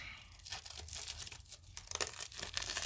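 Michael's cardboard box being sliced open, with a run of tearing and crinkling cardboard noises, close and fairly steady for a few seconds, without speech.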